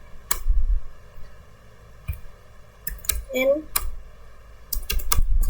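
Keystrokes on a computer keyboard while a command is entered to configure a network switch, a few separate taps and short clusters with talk over them.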